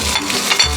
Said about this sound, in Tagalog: So ngayon gigisahin natin ito sa sibuyas.